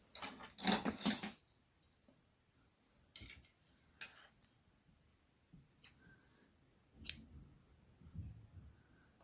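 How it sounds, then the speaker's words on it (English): Scissors cut knitting yarn while slippers are being knitted: a few quiet, sharp snips and clicks spaced out over a near-silent background. "You must cut the yarn."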